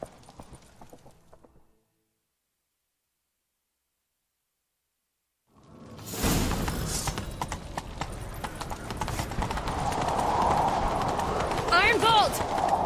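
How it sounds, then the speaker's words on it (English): In the video game The Witcher 3, after a short stretch of quiet, a horse gallops in with rapid, steady clip-clop hoofbeats that stay loud and close until the end. "Grab a horse, we'll chase him down."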